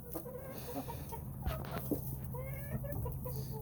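Pet layer-breed chickens clucking nearby, with irregular soft clucks and short calls overlapping across the clip against a low steady background hum, no speech.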